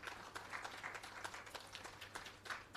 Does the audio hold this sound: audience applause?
yes